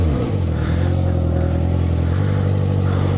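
Honda CB650F Hornet motorcycle, running very hot, revving hard for a wheelie: a loud close engine note holding a steady pitch, then shifting down to a lower drone partway through, with no talk.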